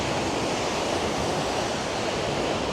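Water from an Icelandic waterfall pours and splashes in a steady, dense roar that fills the whole clip, loud and close, with no voices.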